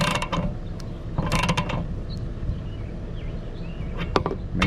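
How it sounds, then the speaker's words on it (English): Ratcheting metal clicks from a 1 1/16 socket tightening a fitting on an RV water heater, coming in a few short close bursts separated by steady background hum. "Got to go with your 1 1/16 socket again"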